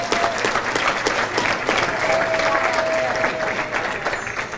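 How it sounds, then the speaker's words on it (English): At a bowling association adult banquet, a room full of guests gives a sustained round of applause, even and fairly loud throughout with a faint tone running underneath. "Let's give him a nice round of applause."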